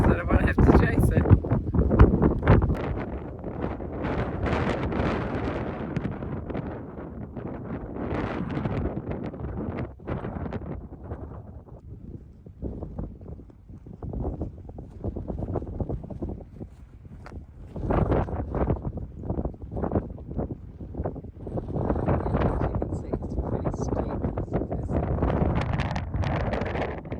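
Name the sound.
strong wind at campsite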